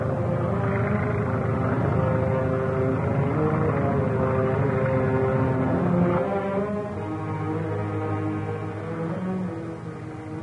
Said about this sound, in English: Hear that plane?